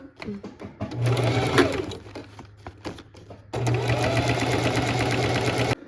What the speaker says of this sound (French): on va retourner notre projet sur l'endroit pour venir faire ma deuxième surpiqûre